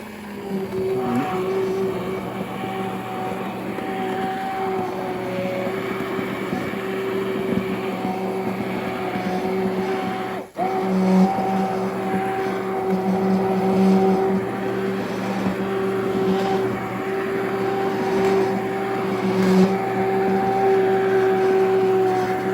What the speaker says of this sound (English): Got my immersion blender, brand new out the box.